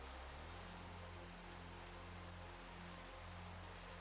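Rain falling in a video game: a faint, steady, even hiss of distant rainfall that runs unbroken and alone, with no talk.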